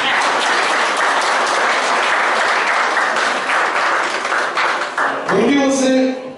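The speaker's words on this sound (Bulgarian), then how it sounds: "вашите аплодисменти за него" Audience applause fills a Bulgarian gallery at the opening of painter Ivan Albanski's 13th solo exhibition, held with the Nikola Vaptsarov community centre. The clapping is steady and dense, then ends abruptly as a sustained tone and a voice come in.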